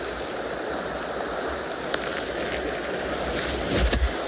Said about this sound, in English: The waves are coming in.